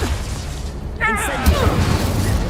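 The Confringo blasting spell goes off in the Hogwarts Legacy video game with a booming burst over a constant rumbling background. A voice is briefly heard alongside it.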